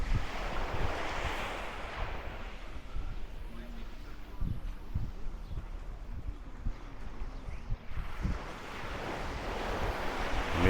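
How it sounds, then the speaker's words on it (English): Small, gentle ocean waves barely roll onto a beach in Mindelo, Cape Verde, a soft continuous wash with slight surges and wind noise. "hardly any waves, just barely rolling in here"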